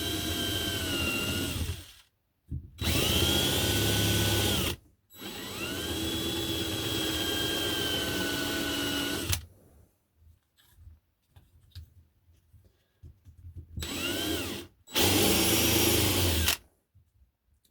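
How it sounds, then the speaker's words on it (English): A power drill whines loudly in several bursts of a few seconds each, drilling holes in a Scalextric slot car body, stopping and starting, with quiet handling noises in the gaps. "So I'm just going to drill, drill this hole."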